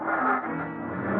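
A 1940s car engine revs and pulls away in an old-time radio crime drama, a steady loud motor roar with a slight rise in pitch, heard alone without voices.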